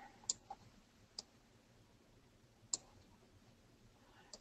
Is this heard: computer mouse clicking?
yes